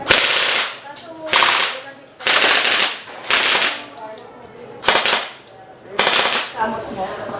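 An airgun fires on full auto in about six short, loud, rattling bursts, close by and separated by brief pauses.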